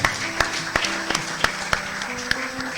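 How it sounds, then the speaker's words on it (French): An audience applauds a pastor at the close of a church conference, with scattered claps and distinct sharp hand claps ringing out over a steady crowd murmur, fairly close and lively. "Est-ce qu'on peut applaudir mon pasteur?"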